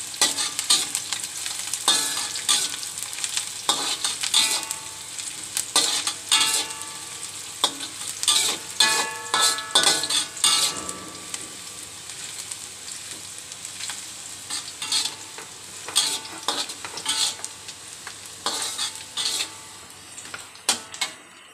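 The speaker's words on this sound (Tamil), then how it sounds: "கொஞ்சம் வதங்கட்டும்" Onions or aromatics sautéing in a home kitchen pan for a Tamil fish dish, with steady close sizzling and repeated stirring scrapes of a spoon against the pan, no talk.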